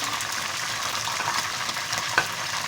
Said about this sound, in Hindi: सारा चिकन इसी तरह फ्राई कर लेंगे